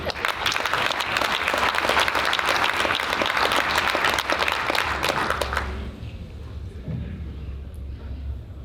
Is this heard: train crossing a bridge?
no